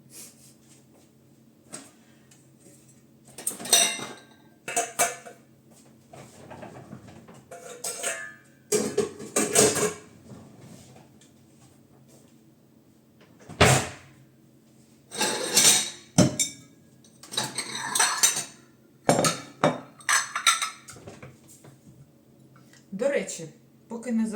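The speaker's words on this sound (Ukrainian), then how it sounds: "Спочатку треба посуд розкласти" Dishes and cutlery clink and clatter in repeated bursts as they are set down, close by, with a low hum in the background.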